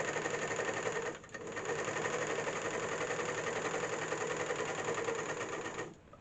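A serger stitches an elastic waistband onto fabric, running with a steady fast whir, pausing briefly near the start and stopping just before the end, close and alone.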